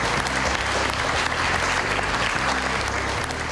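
An audience at a charity calendar christening in the Czech Republic breaks into loud, steady applause, a dense, continuous clatter of many hands clapping with no pauses.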